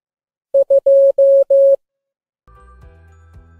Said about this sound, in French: le chiffre 2 a pour code morse 2 sons brefs, suivi de 3 sons longs. Écoutez.